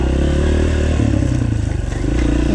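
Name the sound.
dirt bike riding over rocks on an enduro trail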